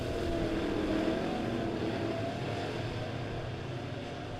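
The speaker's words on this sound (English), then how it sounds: "Green flag goes out and we're racing as we're almost 4 wide down the front straightaway." Midwest Modifieds race cars run nearly four wide down the front straightaway at Springfield Raceway, a dense, steady engine roar heard from a distance with no voices.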